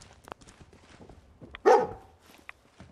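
The dog companion Dogmeat in the video game Fallout 4 lets out a single sharp bark near the middle, between soft footsteps and quiet game ambience.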